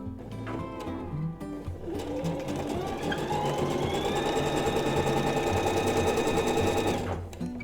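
Domestic sewing machine running a straight seam on fabric for house slippers, a steady close mechanical whir with rapid stitching rhythm that builds and holds for several seconds before stopping.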